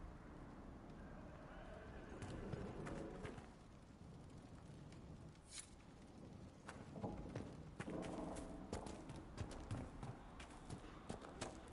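A horse in a video game stable clops and snorts at a low level, with hoof clip-clops growing busier toward the end and faint bird sounds in the background.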